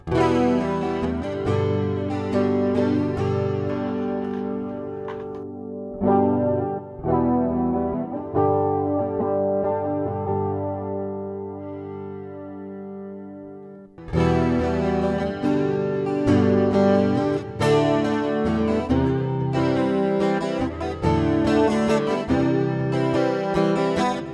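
Electric guitar on a single-coil pickup of a Donner Hush X headless travel guitar, with a bright, twangy tone, strummed chords and riffs ringing out, with a short gap of sustained notes before louder playing resumes.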